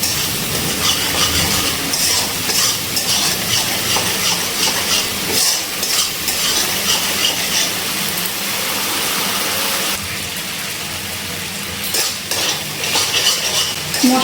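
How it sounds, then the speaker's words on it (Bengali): Masala spice paste for chhanar dalna, a paneer curry, sizzling steadily as it is stirred in a pan over a low gas flame, with a continuous close frying hiss and occasional scraping. "এবারে গ্যাসের ফ্লেমটা একদম লোতে রেখে মশলাটা আমি ভালো করে কষিয়ে নিচ্ছি।"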